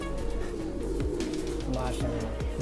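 Giribaz pigeons, a pricey fancy breed, cooing in a loft, low rhythmic coos repeating close by under a steady background hum, with someone talking at times.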